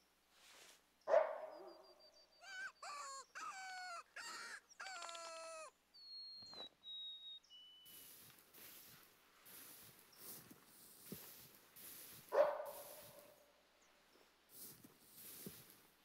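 A dog barks in theHunter: Call of the Wild hunting game, two sharp distant woofs several seconds apart amid outdoor birdsong and forest ambience.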